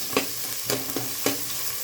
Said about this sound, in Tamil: ஒரு 3 பச்சை மிளகாய், அதையும் போட்டு நல்லா வதக்கிடலாம்.